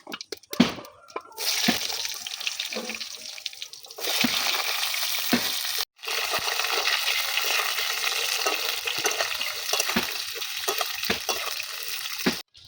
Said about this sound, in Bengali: জিরে ফোড়ন দেবো, কেটে রাখা আলুগুলো ভেজে নেব।